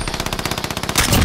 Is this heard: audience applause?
no